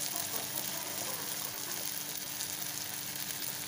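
Boiled cabbage sizzles steadily in a hot pan of spicy vegetables as it is mixed in, a close, continuous frying hiss with faint stirring scrapes underneath.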